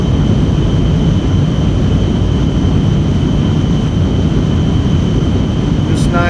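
An NF-104 Starfighter jet engine holds full afterburner during a high-altitude climb, a loud, steady, unbroken roar that stays constant from start to finish.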